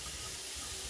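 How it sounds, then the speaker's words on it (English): A freshly caught fish is rinsed under fresh tap water, a brief steady rushing stream, close and quiet, no talking. "It's time to rinse it out"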